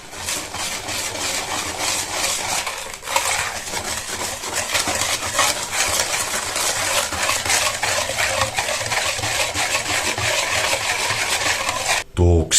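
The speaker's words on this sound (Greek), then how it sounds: "Ανακατεύουμε." A spoon stirs apple pie filling of apples with cinnamon, nutmeg and ground cloves for a vegan apple pie, giving continuous close scraping and rubbing with a brief clatter near the end.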